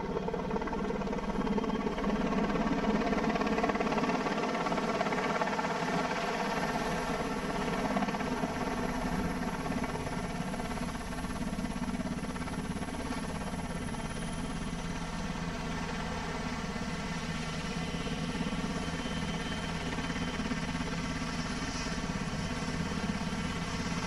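A French Army Caïman helicopter flies on a disaster-relief mission, its engine and rotor giving off a steady, loud, continuous droning whine with a high turbine tone, unbroken and without voices.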